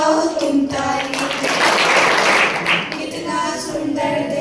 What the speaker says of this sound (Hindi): बच्चों नाचो गाओ बजाओ तुम ताली।